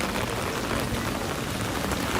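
Steady, loud rain pours down outdoors at Disney's Animal Kingdom theme park, a dense continuous hiss with dense drops pattering on surfaces throughout, and no voices.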